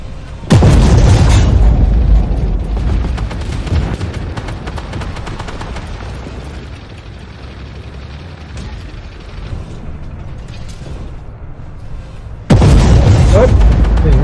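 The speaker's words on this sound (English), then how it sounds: "Shots from a K-21. They're firing across the way, mate." In a tank video game, a K-21 fires shots and explosions follow. Heavy booms open and close the stretch, and a rumbling battle din fills the gap between them, with someone talking over it.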